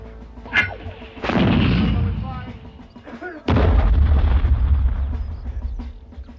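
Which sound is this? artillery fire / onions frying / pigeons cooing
artillery fire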